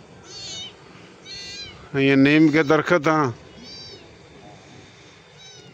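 A cat on a farm meows several times, with short faint cries before and after one louder drawn-out meow, while someone speaks briefly over the outdoor background.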